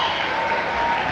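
A basketball crowd at a men's game breaks into a brief, dense burst of applause, steady and fairly loud for about a second.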